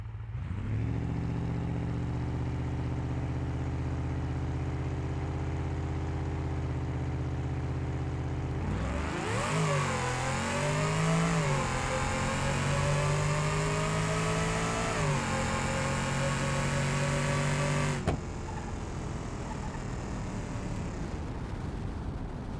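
Car engine on a drag strip in BeamNG.Drive: a steady idle drone, then a sudden loud launch with rising revs and gear changes for about nine seconds before cutting back to a quieter hum.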